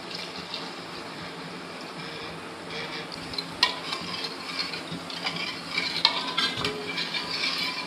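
Milk simmering with dry ginger and cardamom powder in a pan, stirred steadily with a soft continuous bubbling and scraping texture, no talking.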